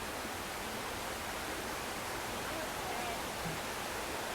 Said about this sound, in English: Cute waterfall. Right there. Down to that river.